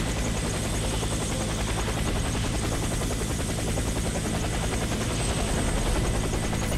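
A helicopter in Warface drones loudly and steadily, rotor thump and engine roar filling the whole stretch without a break or any speech.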